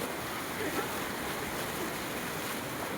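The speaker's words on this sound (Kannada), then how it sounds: "ಬಹಳ ನೀರು ಹರಿತಾ ಇದೆ" Heavily flowing floodwater at Mallaghatta near Turuvekere during the rains, a steady broadband rush of water running continuously at close range with some wind buffeting on the microphone.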